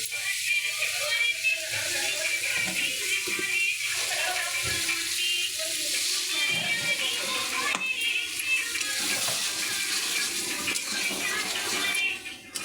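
Ground coconut tipped into hot oil for a prawn malai curry, giving a steady, close sizzle of frying that runs continuously with a faint watery hiss and no talking.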